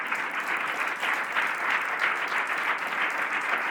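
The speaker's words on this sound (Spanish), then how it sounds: "Puedes aplaudir," A live audience at a podcast recording claps steadily for a few seconds, a moderately loud, even patter of many hands with no voices over it.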